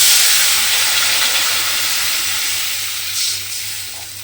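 A little water is poured into spiced oil while making a hilsa fish curry, and it bursts into a loud, close hiss of sizzling steam that slowly fades.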